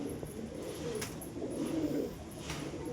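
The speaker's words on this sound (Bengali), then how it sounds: "আপনার সব পায়রা কুটুর কুটুর করে ঘুরে বেড়াচ্ছে" Pigeons in a pigeon house coo in low, soft, rolling calls, several overlapping and steady, with faint scattered chirps above and no talking.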